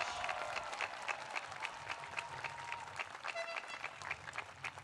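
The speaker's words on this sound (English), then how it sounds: "let's start with a round of applause for the class of 2021 and their supporters here at Wish" A graduation audience for a 12th-grade class at WISH Academy High School claps continuously, a dense, steady wash of many hands at moderate distance without any voices.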